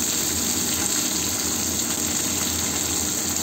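Garlic and chopped onion frying in a pan give off a steady, loud, close sizzle that holds evenly throughout with no voices over it.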